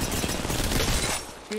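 Gunfire in the game Apex Legends Mobile: a dense, loud burst of rapid shots for over a second, easing briefly before a final sharp report.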